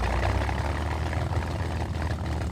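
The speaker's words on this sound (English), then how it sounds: "the sound of the engine." A Spitfire's Merlin engine hums steadily in a flight simulator game, a dense, continuous low drone with no talk over it.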